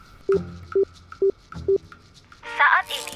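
Four evenly spaced telephone dialing beeps sound in an Indonesian-dubbed Tomica Hyper Rescue Drive Head cartoon, clear and close, followed by a brief burst of louder sound.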